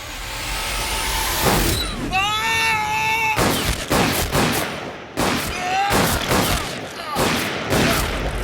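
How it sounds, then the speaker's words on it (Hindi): Several loud, sharp gunshots crack out in quick bursts amid shouting and a chaotic, noisy scene in a Hindi-dubbed South Indian action comedy film, with a high whining tone in between. "किसने गोली चलाई है?"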